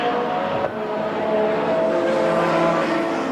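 Front-wheel-drive Vauxhall and rear-wheel-drive BMW touring cars in a BTCC race, heading down to Copse: loud, continuous engine roar with sustained revving, a brief dip and then steady drone close by.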